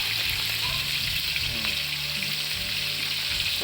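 Chunks of pork for lechon kawali deep frying in a pan, oil crackling and sizzling in a loud, continuous close-up hiss, with light stirring clinks and faint low sounds beneath.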